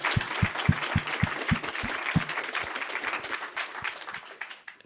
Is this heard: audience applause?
yes